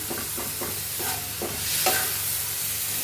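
Onion and tomato stir-fried in a pan, with rhythmic scraping strokes of a spatula over a soft sizzle, close and fairly quiet.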